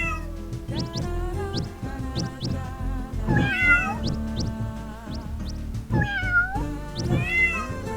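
Cartoon cats in the video game Tasty Planet meow repeatedly in overlapping, clear, close-up mews that rise and fall in pitch over a steady bed of game music.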